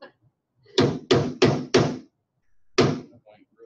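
A small hammer knocks nails into wood on a rolling spray cart build, four quick close loud strikes in a row followed by one more blow after a pause, with a brief voice murmur in between.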